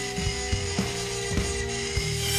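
A CNC router milling machine runs steadily with a constant tonal whine, punctuated by regular mechanical clicks and knocks roughly every half second. No voices are heard.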